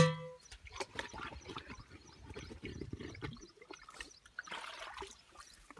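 Water trickles and splashes as it is poured into a pesticide mix of Tamar and TATA Metri for weed control in sugarcane, a close, uneven pouring with no talk.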